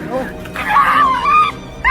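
A dog caught in barbed wire yelps and whimpers in high, strained cries, loud and close, in short anguished bursts.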